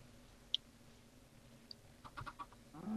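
In the Minecraft video game, a chicken gives a few short, faint clucks scattered over a low background of game ambience.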